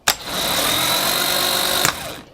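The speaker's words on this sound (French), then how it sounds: "T'as vu comment il tourne pas vite? Regarde, il tourne plus là. Le démarreur il est mort." A new starter motor on a VW T3 with a Subaru engine swap spins slowly, a loud, steady whirring whine that starts abruptly, holds for about two seconds and stops with a clunk.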